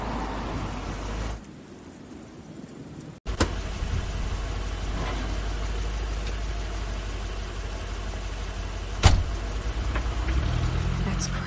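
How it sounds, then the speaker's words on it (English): Car engine in The Wolf Among Us video game: a steady, close engine drone runs through most of the scene after a brief quieter stretch, with a sharp click or thump near the end. "That's Crane's car."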